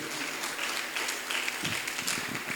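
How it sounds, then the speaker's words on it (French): Audience applause at an education event presenting preschool teaching guides, steady moderate clapping from a crowd with a few voices mixed in toward the end. "est-ce qu'on peut applaudir fortement pour elle?"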